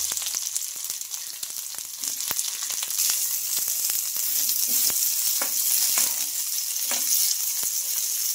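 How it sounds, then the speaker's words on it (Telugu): Long-cut sliced onions sizzling in hot oil in a kadai, a loud, steady frying hiss with crackles throughout and no voices. "ఇప్పుడు ఇలా పొడవుగా కట్ చేసుకున్న ఆనియన్స్ అయితే వేసుకోవాలి"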